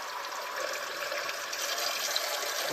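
Water running steadily from a kitchen faucet fitted with a Pur water filter, a close, constant hissing gush that stays level throughout with no talk.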